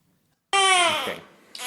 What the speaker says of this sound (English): there she is, she's crying